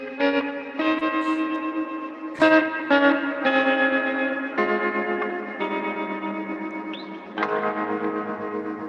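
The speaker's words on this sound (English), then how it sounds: "There's a little bit of delay." Guitar chords played through a delay effect, each strummed chord ringing with echoing repeats and a chorus-like shimmer in a steady, moderately loud passage with no talking.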